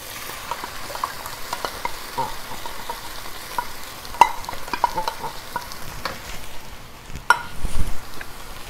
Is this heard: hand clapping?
no